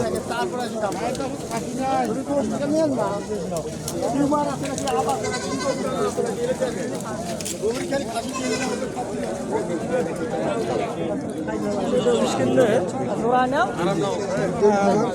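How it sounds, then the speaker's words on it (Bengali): Native-breed goats bleat repeatedly at a crowded weekly goat market in Badarganj, Rangpur, their cries overlapping amid constant crowd chatter and nearby voices. "ছাগল"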